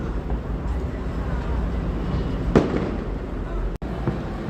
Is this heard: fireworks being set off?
yes